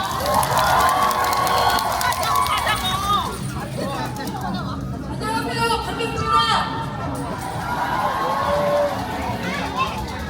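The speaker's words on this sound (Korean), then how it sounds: "용기 내어 단상에 나오는 시민들을 향해 힘찬 박수 부탁드립니다" Crowd cheering and clapping at a street protest rally in Busan's Seomyeon district demanding impeachment and arrest, a dense steady roar of voices with shouts rising and falling throughout.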